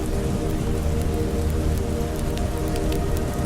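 Steady rain falls on a stormy autumn night, a dense, even hiss of drops pattering on surfaces close by, continuous and unbroken with no voices.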